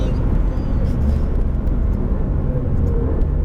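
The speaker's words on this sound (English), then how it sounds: "Now we have some very hard braking." Alfa Romeo Giulia GTAm braking very hard on a racetrack after a flat-out run at 250 km/h, a loud, steady low engine rumble and road roar filling the cabin, heard up close with no talk.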